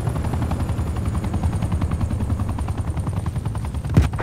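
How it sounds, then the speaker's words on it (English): An attack helicopter in the video game Call of Duty: Black Ops Cold War thumps with rapid rotor beats alongside bursts of machine-gun fire, loud and continuous with no talk. "Hostile attack helicopter inbound."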